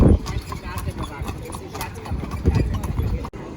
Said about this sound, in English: So here we have lots of those horses. They call them Fiaker.